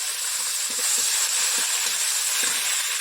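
Sugar, crushed garam masala, bay leaf, garlic paste and onion paste sizzle in a hot wok, giving a steady, even frying hiss with faint soft crackles throughout.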